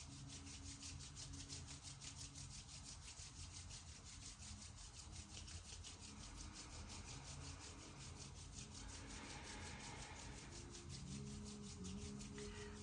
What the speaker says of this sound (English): rub the soles of the feet against each other and the palms of the hands against each other at the same time